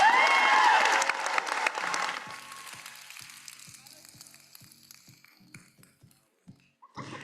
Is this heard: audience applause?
yes